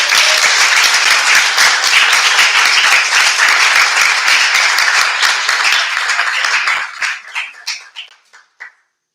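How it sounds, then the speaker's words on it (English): Applause from an audience honoring graduating seniors after their senior project presentations, steady dense clapping for about seven seconds, then thinning into scattered final claps and fading out. "can we maybe recognize all the seniors again with one more round of applause?"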